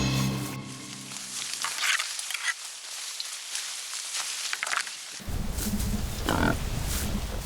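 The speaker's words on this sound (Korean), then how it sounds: "가을 산기슭에 멧돼지가 나타났다." Wild boar family with young foraging on an autumn hillside, rooting through fallen leaves for acorns and chestnuts; a steady rustling, crunching din of snouts and hooves in leaf litter, loud and close, with low grunting underneath in the later part.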